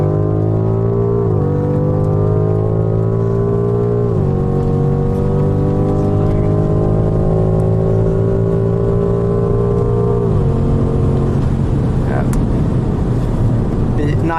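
A BMW M5 Competition in rear-wheel drive powerslides, engine revving loudly and continuously with shifting pitch, rising and dropping as the car slides and accelerates, close and dominant throughout.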